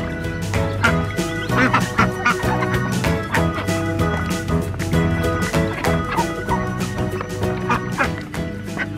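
A flock of ducks at their water gives off dense, continuous quacking and honking calls, loud and close, overlapping throughout with no pauses.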